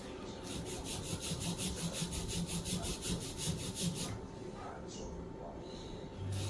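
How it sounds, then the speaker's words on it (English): A dirty Nintendo RP2A03 CPU chip gets scrubbed in quick, rhythmic rasping strokes, close and fairly quiet, for about four seconds before the rubbing stops and faint handling noises follow. "We're gonna scrub, we're gonna get on it pretty good."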